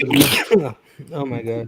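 A single sharp sneeze bursts out at close range, followed by a brief pause and then a person speaking.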